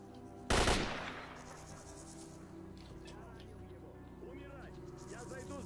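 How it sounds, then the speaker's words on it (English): Gunfire in the video game S.T.A.L.K.E.R.: one loud burst of shots near the start, then a hum of insects and ambient noise while someone talks over it. "I hear shooting from behind"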